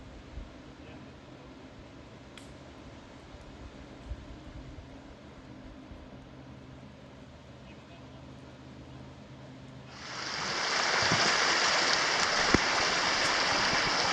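A river feeding Spray Falls at Pictured Rocks National Lakeshore rushes past. For the first part the water is a faint background under a voice, then a loud, close, steady roar of water takes over.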